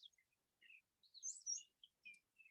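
Several birds sing and chirp on a spring outdoor field trip in Georgia, a brown thrasher among them mimicking other calls, with short, faint, high twittering phrases coming in bursts with brief pauses.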